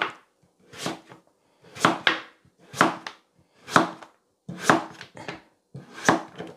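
A knife cuts thin slices from an old pumpkin on a board, six or seven separate, crisp slicing strokes at an even pace, close and clear with silence between them.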